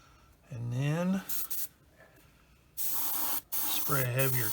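An airbrush sprays acrylic primer and paint in short hissing bursts, a couple of quick sprays then a longer steady spray, with someone talking in between.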